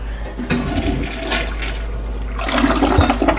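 A resort villa toilet flushes with a loud, steady rush of water that swells and surges near the end, close and alone with no talk.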